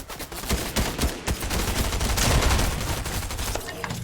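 Video game gunfire on the Tilted map, rapid bursts and sustained automatic shots crackling densely for several seconds, loud and close.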